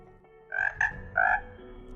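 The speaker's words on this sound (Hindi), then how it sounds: "ये आवाज होती है मेंढक की" Frogs croak in short bursts, a cluster of three loud calls close by, with a faint steady chorus droning in the background.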